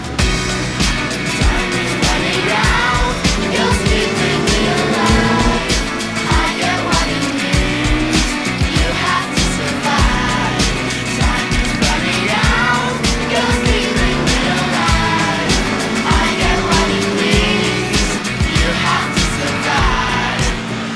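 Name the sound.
sidecar motorcycle race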